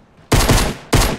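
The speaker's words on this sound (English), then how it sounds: "Oh, two more shots." Loud bursts of gunfire in the video game Fortnite, two rapid volleys in quick succession that fill the short moment with dense, close shooting.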